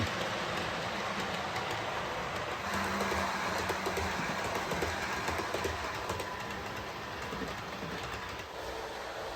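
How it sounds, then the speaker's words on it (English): A steady rolling model train rumble with faint rhythmic clicking of wheels passing over rail gaps, continuous and moderately distant. "the wheels make clickety-clack as they go over them"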